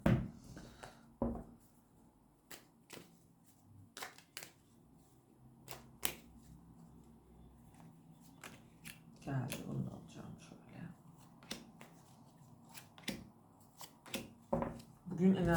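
Tarot cards are shuffled and drawn, giving scattered quiet flicks and snaps with brief rustling bursts. The cards are close but soft.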